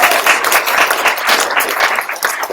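An audience at a live nonprofit event at Google's San Francisco office breaks into steady, loud applause, a dense wash of many hands clapping that carries on throughout with no one speaking over it.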